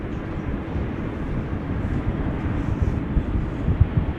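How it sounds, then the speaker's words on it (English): Boeing Dreamliner airliner taxiing at Amsterdam Schiphol Airport, a steady broadband jet-engine rumble heard from a distance, continuous and unbroken with no voices. "Dreamliner's on the move."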